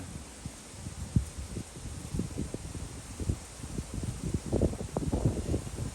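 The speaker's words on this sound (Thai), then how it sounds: "โอ้วันนี้ลมแรงนะครับอากาศ" Strong outdoor wind gusts buffet the microphone in irregular low rumbling bursts over a constant airy hiss, growing stronger toward the end.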